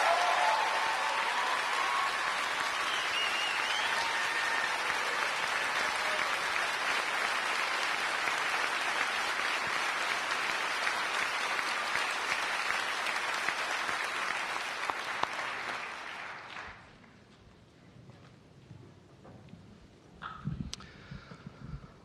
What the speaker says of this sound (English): Ladies and gentlemen, one last applause for our newest astronaut class.